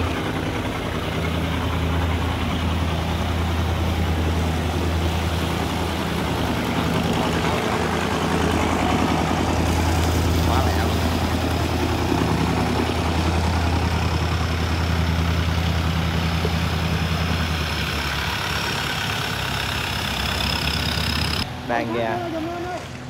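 Motorboat engines on a canal in Vietnam, a steady loud low drone that holds for about twenty seconds before cutting off abruptly near the end.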